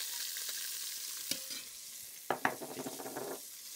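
Onions frying in a pot after browning beef for stew, a soft steady sizzle with a few sharp stirring scrapes against the pot bottom toward the end, close and fairly quiet, no speech.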